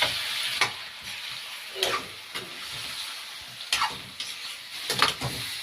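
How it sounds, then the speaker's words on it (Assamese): Chicken pieces frying for chicken potapot, a steady sizzle with brief clicks and scrapes as the pan is stirred a few times, fairly close and with no voices. "ফ্ৰাই কৰিছোঁ"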